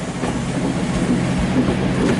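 A train passes close by at Leamington Spa station with a steady, loud rolling rumble and faint wheel clatter, unbroken for the whole stretch.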